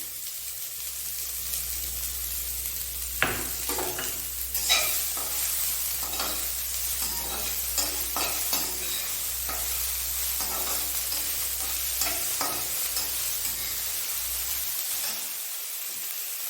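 Onion frying in a pan for poha makes a soft, continuous sizzle and hiss, joined by intermittent scraping and tapping of a spatula as it is stirred, close by with no talking.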